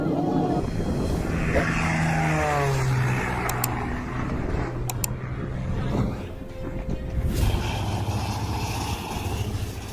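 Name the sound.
aircraft engines roaring during takeoff from runway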